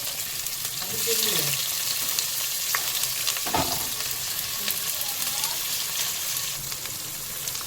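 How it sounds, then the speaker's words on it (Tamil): Onions fry in oil with cinnamon and cloves for Chennai-style biryani, with a steady close sizzle and a stirring clatter as they are added and turned in the pan, and no voice over it. "பார்த்திங்களா, ஆனியன் சேர்க்குறோம்."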